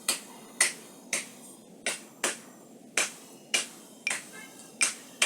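Sharp, dry wooden clicks of claves strike about ten times in a steady, close mento rhythm pattern, each with a short ringing tail.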